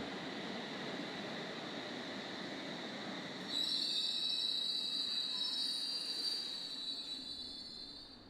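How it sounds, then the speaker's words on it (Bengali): A train pulls into Medinipur station, its wheels squealing in a loud sustained high screech over a steady rumble that fades out at the end, with no voices. "প্রায় তিন ঘন্টা কুড়ি মিনিট পর ট্রেন সময় মতো মেদিনীপুর স্টেশনে এসে পৌঁছলো"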